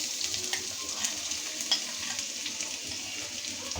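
Onions frying in oil for a spiced surma fish dish, producing an even, continuous sizzle at close range with soft stirring movements and no talk.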